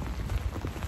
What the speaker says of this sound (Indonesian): Hujan dari pagi sampai pulang hujan terus.